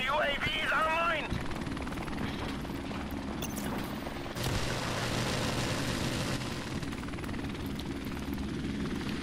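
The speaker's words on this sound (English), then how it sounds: "Friendly helicopter on the way." A friendly helicopter in Call of Duty 4 arrives with a loud, steady rotor drone that lasts the whole stretch, while a radio voice speaks briefly near the start.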